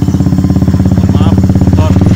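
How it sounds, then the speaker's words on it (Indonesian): A motorcycle engine chugs loudly and close by with a rapid, even pulsing beat, with faint voices in the background. "Mohon maaf, motor."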